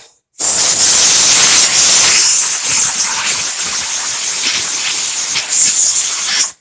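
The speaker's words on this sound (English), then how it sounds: "I get some canned air. This happens to be Walmart canned air. And I just spray it." A loud, continuous hiss of canned air sprays close up onto a Nintendo 64 cartridge for several seconds, with a slight shift in pressure partway through.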